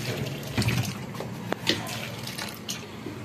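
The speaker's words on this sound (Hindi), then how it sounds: "इनको भी पानी दे दिए" Water poured from a container onto potted plants in a home garden during hot weather, splashing softly in short bursts with faint background noise.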